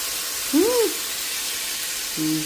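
Marinated chicken breast sautéing in a pan hisses in a steady, moderate sizzle, joined by a couple of short vocal exclamations.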